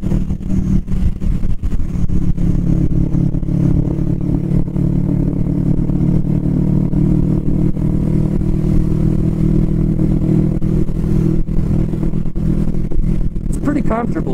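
A Kawasaki Vulcan S 650 Cafe ABS motorcycle rides along, its steady engine drone heavy and continuous throughout, mixed with road and wind rumble; engine note stays even, with a brief clatter near the end.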